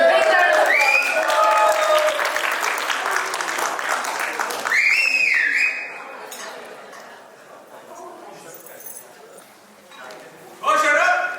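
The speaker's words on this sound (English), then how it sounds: "Let's give it a big round of applause." Guests applauding at a 25th wedding anniversary party, clapping mixed with cheering voices, then a quieter stretch with clinking glassware and people talking before clapping and voices rise again.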